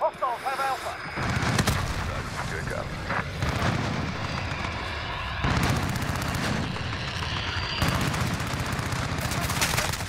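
Heavy automatic gunfire from the video game Call of Duty: Modern Warfare, dense bursts and booming impacts rolling almost continuously through the whole stretch, loud and close, with voice chatter mixed in underneath.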